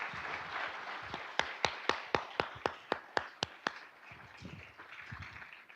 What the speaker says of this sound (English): let's all give a round of applause to Riley for being our host